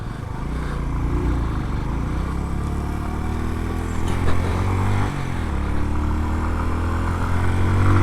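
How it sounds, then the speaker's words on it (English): A 100cc motorcycle engine runs steadily, loud and close, its pitch shifting slightly as it revs and settles. "Because motorcycles are fun, whether it be a 100cc thing like this"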